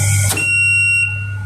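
An alarm buzzer on a single-phase, two-motor pump control panel sounds after the pumps trip. It gives one steady, piercing electronic tone, loud and close, after a brief click.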